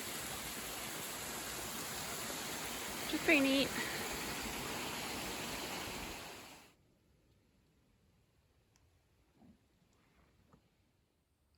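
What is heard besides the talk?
tiny waterfall on a creek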